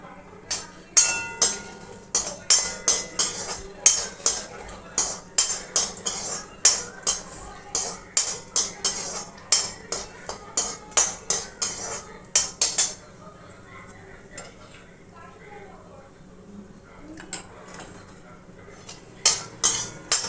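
Peanuts being fried and stirred in a pan, a rapid run of loud metallic clinks and scrapes from a spatula on the pan over a low frying hiss, pausing briefly before the clattering resumes.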